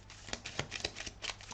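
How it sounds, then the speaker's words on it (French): A deck of tarot cards is shuffled up close, making brief soft riffling and flicking sounds in a quick, irregular rhythm, quiet and with no speech. "On va aller prendre 3 cartes pour l'aspect sentimental, émotionnel, relationnel"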